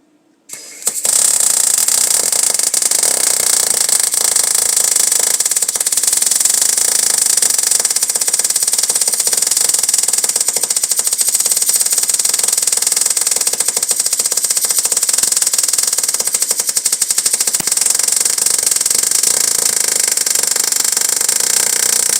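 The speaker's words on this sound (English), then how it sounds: "we're doing a fillet weld with 4mm steel" Andeli MIG 160 welder running a fillet weld on 3 to 4 mm steel box section: a steady, loud crackling buzz starting abruptly after a second and continuing without a break to the end.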